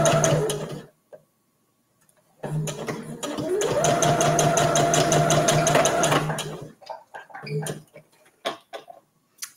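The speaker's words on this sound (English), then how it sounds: "we're just going to stitch directly over this line. Back stitch, beginning and end." A sewing machine stitches a seam on a reusable gift bag, whirring steadily in two bursts with a short pause between and a longer sustained run, close and loud, followed by handling clicks and no talk.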